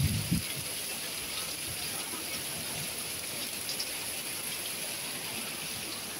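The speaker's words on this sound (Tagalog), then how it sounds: "Lakas ng ulan," Heavy rain pours in a steady, dense hiss that fills the whole stretch without letup, with a brief knock at the very start.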